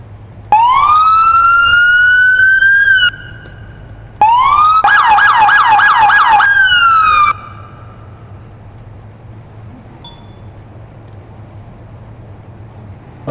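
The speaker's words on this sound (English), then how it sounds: "And another thing that's part of the pack is the siren." Loud police car siren from the Police Simulator video game, LAPD-style patrol car: two rising wails that settle into steady tones, the second switching to a rapid yelp, then cutting off to quiet.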